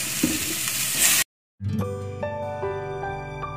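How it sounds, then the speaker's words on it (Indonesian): Clams stir-fry in butter and cooking oil with a loud, continuous sizzle, cut by a brief gap, then returning with metallic clinks of a utensil scraping and stirring the pan. "Lalu kerangnya kita oseng-oseng dulu di samping seperti ini."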